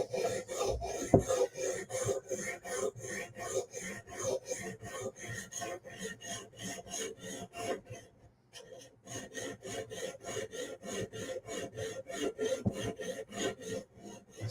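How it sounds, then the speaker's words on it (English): A Hinderer folding knife is sharpened on a Hapstone RS guided sharpener with steady, rhythmic rasping strokes of stone on steel, close and fairly quiet, repeating evenly with one brief pause partway through. "Now let's do some sharpening."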